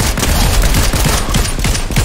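Continuous heavy automatic gunfire in a multiplayer shooter game, loud and close, with dense overlapping rapid shots and no pause over about two seconds.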